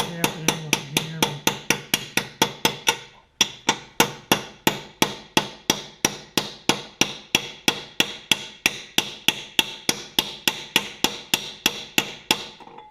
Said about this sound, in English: It's just as easy to tap it in with a hammer.